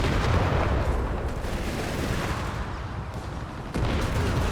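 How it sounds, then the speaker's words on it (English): A white phosphorus artillery barrage in Company of Heroes 3 rumbles as a dense, continuous wash of deep booms and crackling impacts, loud and unbroken for the whole stretch. "He's popping white phosphorus here."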